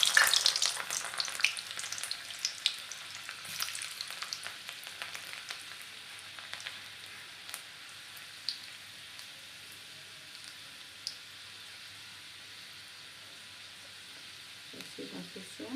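Garlic drops into hot oil and fries with a crackling, rain-like sizzle that is strongest at first and then settles into a quieter, steady hiss, with a voice briefly near the end.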